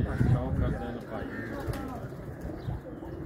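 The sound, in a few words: pigeons cooing on a rooftop loft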